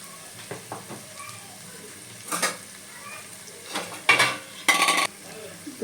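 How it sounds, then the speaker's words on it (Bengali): Spices with Kashmiri chilli powder, dry chilli powder and green chillies are sautéed in a pan for a taro curry, with a soft sizzle broken by several loud scraping stirs of a utensil against the pan. "এবার মশলাটা আমি ভালো করে কষে নেব"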